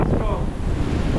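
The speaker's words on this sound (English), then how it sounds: "then we get a big old gust of wind" A strong gust of wind buffets the microphone outdoors in a remote community in Pakistan, loud, rumbling and steady throughout with no talk.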